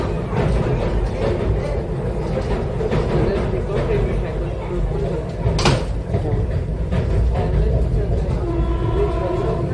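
A Vande Bharat Express train runs from Pune on a ghat route, a steady loud rumble of the moving train interior with a brief sharp clatter midway.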